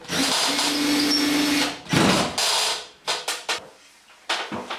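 A power tool drives a screw to tighten a ceiling batten, with one long steady whir followed by several short, sharp bursts of the motor. Nobody speaks.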